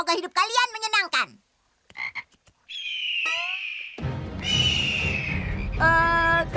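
Cartoon frogs croak and warble in bursts, with a sustained whistling tone and a noisy stretch in the middle, ending on louder tonal croaks.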